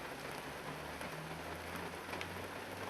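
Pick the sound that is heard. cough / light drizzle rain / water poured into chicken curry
light drizzle rain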